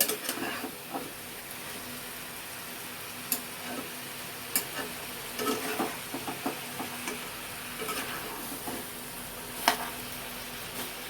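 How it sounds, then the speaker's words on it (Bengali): Chopped beans going into a sizzling pan for chicken stew, with a steady low frying hiss and scattered sharp taps and scrapes of a spoon against the pan, fairly quiet and close, no voices. "কেটে রাখা বিনসগুলোকে আমি দিয়ে দিলাম।"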